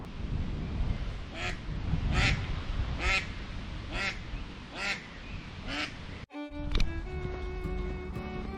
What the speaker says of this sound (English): A very noisy mother duck down here with her 4 chicks.